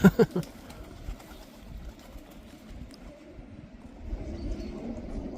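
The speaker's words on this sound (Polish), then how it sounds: "Samce zaczynają gruchać" Male pigeons in a loft coo softly in low, rolling phrases, faint beneath a steady background rumble, with a few louder bursts near the start.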